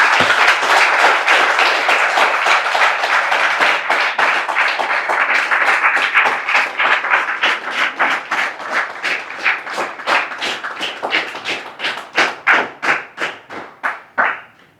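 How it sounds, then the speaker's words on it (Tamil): An audience at a public meeting breaks into applause, a dense, loud burst of clapping that gradually thins into scattered individual claps and dies away near the end. "அதனால தான் வந்து உங்களோட கைத்தட்டல்கள் வந்திருக்குன்னு நான் நினைக்கிறேன்"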